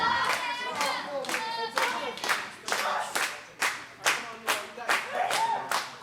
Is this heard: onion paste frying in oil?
no